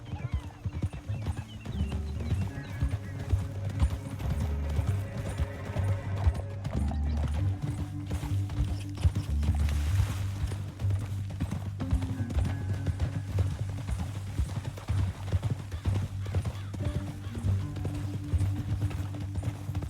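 Rapid hoofbeats of horses galloping continuously in Red Dead Redemption 2 beneath a low rumbling background, with a brief whinny-like sound, fairly close and steady.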